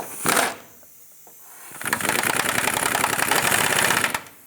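A power tool, likely an impact wrench or ratchet, tightening the driver's side rack and pinion nut on a 1997-2003 Lexus ES300, giving a short buzzing burst and then a longer steady whirring run up close.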